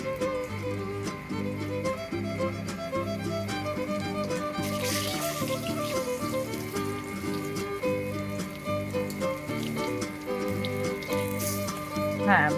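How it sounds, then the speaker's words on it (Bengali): Floured katla fish frying in hot oil in a wok, a soft steady crackle and sizzle under background music, fairly faint and continuous. "মাছগুলো আমি ভেজে নিচ্ছি।"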